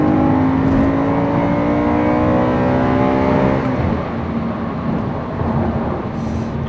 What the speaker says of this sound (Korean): 이 마이크에 이 차 엔진 소리가 잘 전달이 되나 모르겠네요